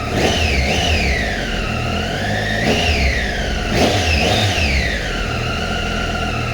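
A Triumph Tiger 800 XRT three-cylinder motorcycle engine revs hard several times, its whining pitch climbing and dropping in repeated surges, loud and close.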